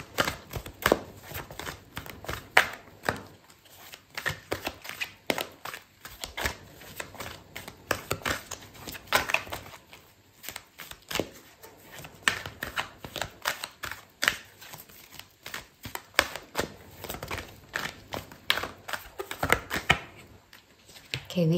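Tarot cards being shuffled and drawn in a card reading: a long run of dense, rapid papery flicks and soft slaps at close range, steady throughout, with no talking.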